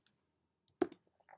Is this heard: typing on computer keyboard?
yes